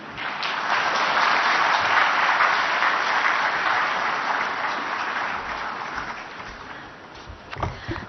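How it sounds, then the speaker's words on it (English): An audience at a congress opening ceremony plenary in a hotel hall breaks into sustained applause, a broad steady clatter that slowly thins toward the end, with a few louder claps near the close. "a huge round of applause for everyone on the dais"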